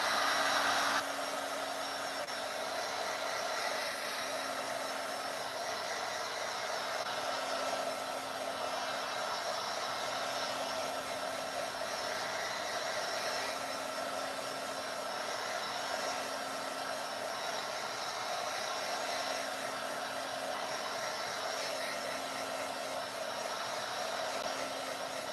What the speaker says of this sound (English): I got my little dryer here.